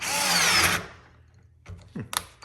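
A cheap power drill bought on Amazon runs on speed setting two, a loud steady whir that cuts off after under a second, followed by quiet and a few faint knocks and clatters.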